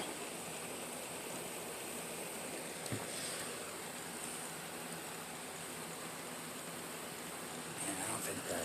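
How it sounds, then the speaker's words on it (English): Fizzing bubbles from a phthalimide-to-anthranilic-acid reaction after glacial acetic acid is added, a steady broadband hiss lasting throughout with a few faint clicks and small spikes near the end. "Is it precipitating, or are we just getting bubbles?"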